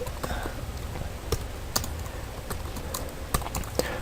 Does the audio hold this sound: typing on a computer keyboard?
yes